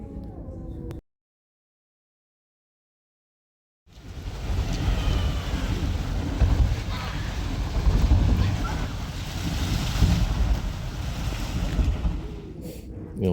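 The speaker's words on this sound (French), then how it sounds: "ce truc fait un boucan, en fait, c'est un geyser qui est juste en dessous" An underground geyser beneath a set of steps gives off a continuous, heavy rumbling roar after a short silence, loud and steady with wind-like noise, and no voices.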